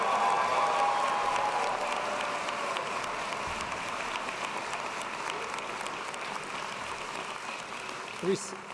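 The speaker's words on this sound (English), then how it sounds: "Now it's time to cheer for the accounting students who just came up." A graduation crowd in an arena applauds for accounting students, a broad, sustained wash of clapping that slowly fades, with a brief louder burst near the end.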